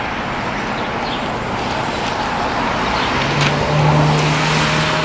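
Steady road traffic noise with cars passing by at a moderate distance, a continuous broadband rumble that swells slightly near the end, with no talking.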